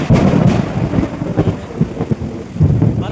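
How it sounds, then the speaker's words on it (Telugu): Thunder rumbles through heavy rain at a construction site, a loud rolling roar with deep booms pulsing over the constant patter of rain. "వర్షం పడుతుంది, మెరుపులు అయితే విపరీతంగా సౌండ్ అవుతుంది"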